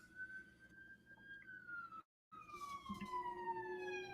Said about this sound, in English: Are you following with the sirens?